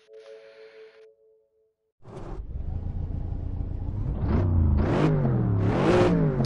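In Assetto Corsa, after a brief electronic tone, a race car engine roars up and revs hard through rising gear shifts, loud and close, sustained to the end.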